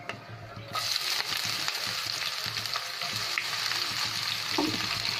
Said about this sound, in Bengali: এখন পেঁয়াজটাকে একটু ভালো করে ভেজে নেব, যাতে পেঁয়াজের কাঁচা ভাবটা চলে যায়